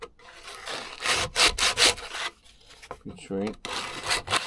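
Sandpaper rubbing back and forth against wood in several loud strokes, with short pauses between passes and a voice speaking briefly in between.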